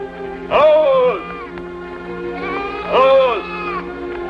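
Sheep bleating in two long, wavering cries a couple of seconds apart, close and loud over a low steady background.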